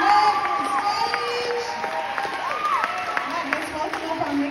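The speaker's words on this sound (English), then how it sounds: "Let's give him another big round of applause." Applause and scattered cheers from a live audience at a talent show honoring a singer who just performed, a steady mass of clapping with occasional whoops and murmuring voices throughout.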